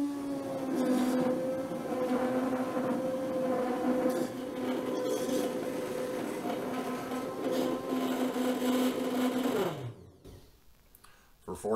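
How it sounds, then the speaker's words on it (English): An immersion blender churns cream into butter with its head held under the surface, giving a steady loud whir with a shifting pitch that runs for about ten seconds, then cuts off, leaving a brief quiet tail. "I basically just put the blender in, use my hand as a shroud, just want the head of the immersion blender under the surface."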